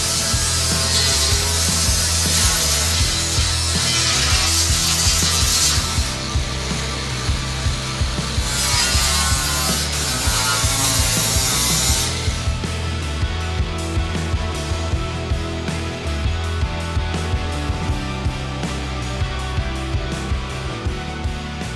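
Power sander grinding against wood on a boat project, a steady loud abrasive whir running continuously with slight pitch shifts and rubbing texture, no talking.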